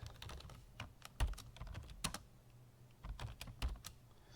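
Computer keyboard typing at close range, quiet irregular key taps in short bursts with a few brief pauses, alone with no voice.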